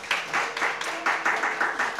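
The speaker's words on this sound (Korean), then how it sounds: "우리 박수 한번 쳐주세요." Audience applause at a Korean church Friday worship service, a dense steady wash of many hands clapping with soft rises and falls, fairly loud and close, without distinct talk.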